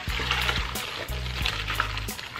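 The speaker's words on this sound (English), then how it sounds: "Drain your pasta." Cooked fettuccine drained in a kitchen, water pouring and splashing steadily for a couple of seconds, close and fairly loud, with a low hum underneath.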